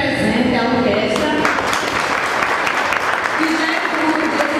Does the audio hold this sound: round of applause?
yes